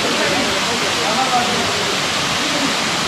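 Ermayi Falls near Ujire gives a steady, dense rush of falling water, loud and close, with a faint voice under the roar.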